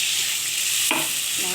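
Spices for chhana bora curry are stirred in a hot frying pan, a brief close scrape of the spoon over a steady bright sizzle.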